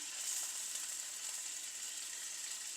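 Green chillies and mustard seeds sauté in hot oil for a ponnaganni keerai and jackfruit seed poriyal, giving a steady, even sizzle and crackle that runs throughout at moderate level, with a slight knock at the very end.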